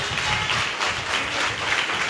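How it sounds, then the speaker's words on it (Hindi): Church congregation clapping along at a Hindi-language healing service, a steady dense wash of many hands applauding throughout, loud and continuous with no voices over it. "ताली तो बजाओ"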